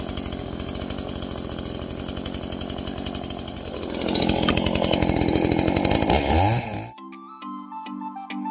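A chainsaw carving a raccoon out of wood, loud and buzzing, rising into a harder cutting roar and then dropping off abruptly near the end, after which a short, quieter tonal sound follows.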